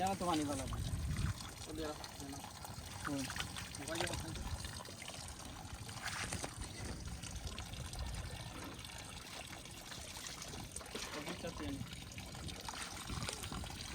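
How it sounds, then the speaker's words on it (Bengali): Water splashes and trickles while a Sifang power tiller is washed during repair work, a fairly quiet pouring flow beneath someone talking. "গাড়ির মেরামত কাজ চলতেছে আপনারা দেখতে পাচ্ছেন সো এখানে ওয়াশ করা হইতেছে"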